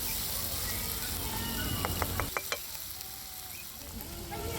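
Cumin, asafoetida and chilli paste frying in hot oil in a pan for an onion-potato curry, a loud steady sizzle with a few quick spatula taps and scrapes, after which the frying settles slightly quieter.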